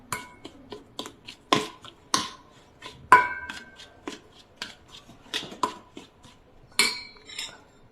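Rice flour dough for pal kozhukatta being stirred with hot boiling water in a bowl, a string of sharp spoon clinks and knocks against the bowl at irregular intervals, close and distinct in an otherwise quiet kitchen.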